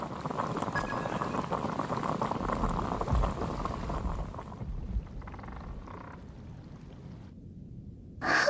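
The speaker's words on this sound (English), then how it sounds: "Yeah, I'll boil some water." Water bubbles and burbles at a rolling boil in the Genshin Impact video game, a steady soft churn that fades after a few seconds, leaving quiet ambience and a short click near the end.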